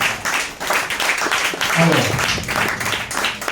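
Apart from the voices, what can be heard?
audience applause for a speaker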